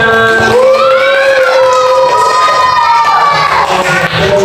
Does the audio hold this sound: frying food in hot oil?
no